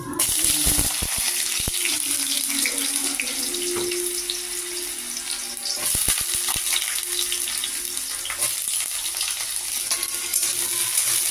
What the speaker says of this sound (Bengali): আলুগুলো ভেজে নেব লালচে করে